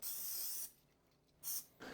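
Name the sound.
spraying loaf tins before filling with zucchini bread batter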